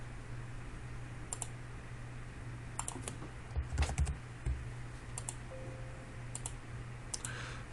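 Computer keyboard keys tapped while entering Revit shortcut commands, giving sparse, quiet clicks in short scattered bursts over a steady low hum in a quiet room.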